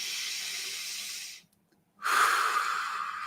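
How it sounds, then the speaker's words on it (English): Two long breaths during a guided meditation at an online Sunday service: a soft, airy exhale, a short silent pause, then a fuller, brighter inhale or exhale, all close to the mic with no talking. "feeling that breath, that you are not the only one breathing in this moment"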